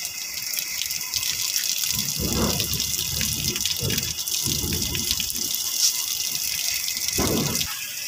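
Old, cloudy coolant water drains from a car radiator, a steady broadband gush of pouring liquid with several louder surges, close by and continuous, with no talking.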